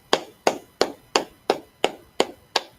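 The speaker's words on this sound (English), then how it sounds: "All right, let's clap it up" A congregation at a Sabbath service claps hands in unison: eight sharp, evenly spaced claps in a brisk steady rhythm, close and clear.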